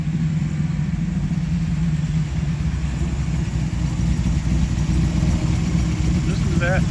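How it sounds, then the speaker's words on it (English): A 1969 Camaro Super Sport's 350 V8 rumbles close by at a steady, low idle with a constant deep throb, and birds chirp faintly near the end. "Listen to that 350 rumble."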